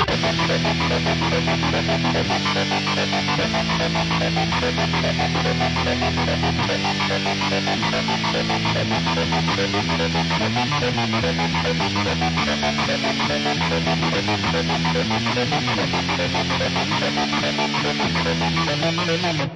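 Heavily distorted electric guitar chords through a Source Audio Ultrawave multiband tremolo placed after the distortion, pulsing with a choppy, wobbling tremolo, loud and continuous with no voices.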